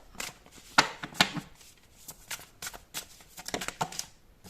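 Playing cards are slid and flicked while a single card is drawn from a tarot deck, giving a few sharp papery snaps and soft rustles, close and fairly quiet, with no talking.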